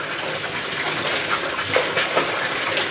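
Water rushes and splashes steadily while rugs are washed at home, a loud close gushing flow with no voices.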